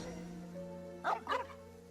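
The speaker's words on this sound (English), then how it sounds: "why are you barking at the cemetery?" A dog in Genshin Impact gives two quick, sharp barks about a quarter second apart, standing out over a steady game soundtrack drone.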